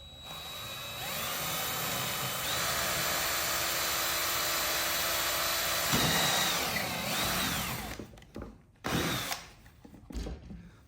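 A power drill boring a hole in a fuel pump part for an 8th-gen 2006–2011 Honda Civic, a loud steady whine for about eight seconds with a brief pitch dip midway, then stopping, followed by short clunks and handling noises.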